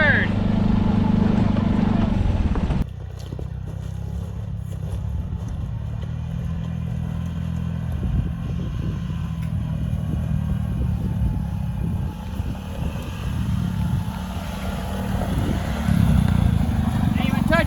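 A turbocharged Pioneer 500 side-by-side climbs a hill, its engine a steady, loud, rough drone with a clattering undertone that swells again near the end, heard up close throughout.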